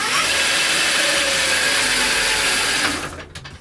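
A 4kW e-bike motor spinning the raised back wheel at high speed, a loud close continuous whirring whine that holds steady and then cuts off abruptly near the end, followed by a few small knocks.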